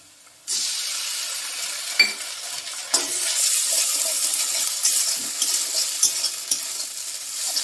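Ginger, garlic and green chilli paste hits hot oil with onions in a pan and bursts into a loud, steady sizzle that carries on throughout, with the spatula scraping and knocking against the pan now and then.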